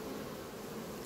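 Bees buzzing at the entrance of a beehive under a slow robbing attack, a continuous close drone of many wings that fills the moment with no talk.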